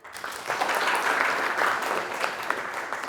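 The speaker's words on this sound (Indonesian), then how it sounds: "Tepuk tangan." A classroom of students claps together in a short burst of applause that rises quickly and holds steady, bright and fairly close, with no talking over it.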